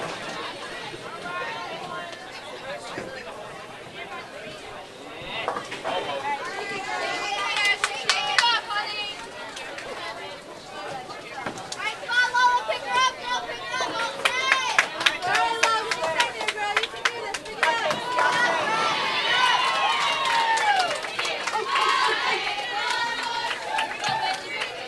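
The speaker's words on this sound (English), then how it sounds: "As you can hear in the background, a lot of cheering going on at these NCAA tournaments." Women's college teams and spectators cheer loudly at an NCAA bowling tournament, with continuous crowd chatter, whoops and rising bursts of shouting filling the hall, swelling and easing over the stretch.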